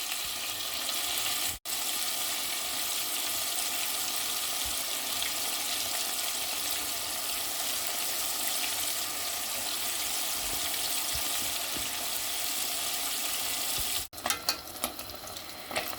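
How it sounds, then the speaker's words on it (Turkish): Loud, steady sizzling of anchovies frying in hot oil, a constant crackling hiss with a couple of brief dropouts and some clinks near the end. "kızdığı için bu şekilde ilave edip kızartıyoruz."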